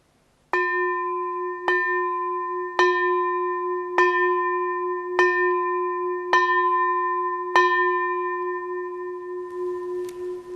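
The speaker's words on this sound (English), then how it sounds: "we end by ringing the bell of invincibility" A ceremonial bell closes a spiritual ceremony with seven evenly spaced, resonant strikes. Each rings clearly and sustains into the next, with the tone lingering alone at the end.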